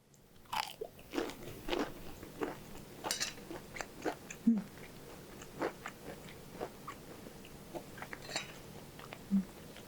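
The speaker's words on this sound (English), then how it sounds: "with the panko it does still get crispy. Even if it doesn't look it on the top, it still has a good crunch to it" Crisp crunching bites into panko-breaded oven-fried chicken, close and fairly quiet, with a steady series of short crunches as it is chewed over about ten seconds.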